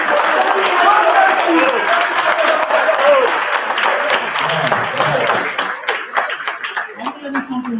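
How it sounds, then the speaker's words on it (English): A large audience at a youth town hall meeting breaks into sustained, loud applause after a presentation, the clapping thinning toward the end, with voices and a few chuckles in the crowd. "Please give yourself a round of applause"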